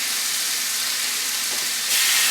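Thin-sliced marinated skirt steak sizzles in a hot pan, a loud, close, continuous frying hiss that swells brighter near the end.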